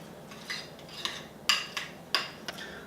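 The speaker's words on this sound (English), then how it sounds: "then I'm going to mix it up" A spoon stirs keto oatmeal with syrup in a bowl, giving a few sharp, close clinks and scrapes against the bowl at uneven intervals over a quiet background.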